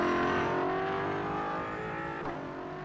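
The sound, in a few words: race car engine in iRacing video game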